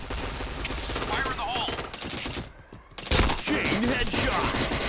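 Bursts of rapid gunfire and overlapping shots from the shooter video game Point Blank run almost the whole way through, loud and dense, with a brief lull near the middle before the firing resumes.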